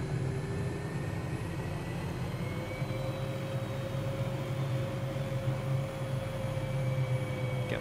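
In Microsoft Flight Simulator, an aircraft engine runs at full throttle with the governor engaged, giving a steady, loud, even drone with a sustained whine and no talking.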